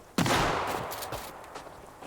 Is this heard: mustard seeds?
no